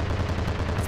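A WW2 fighter plane's four cannons fire in Ravenfield, a rapid, dense burst of heavy automatic shots in a continuous loud stream, with no talk.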